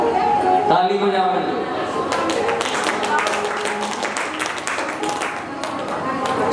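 Clapping and scattered taps from a devotional crowd at a Shiv Mahapuran katha gathering, a broad steady patter that builds after a brief lull, with murmuring voices mixed in.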